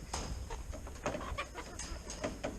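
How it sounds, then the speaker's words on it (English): Fighting chickens cluck and squawk in rapid, agitated bursts, fairly close, with a steady hum beneath them. "Them chickens are still fighting."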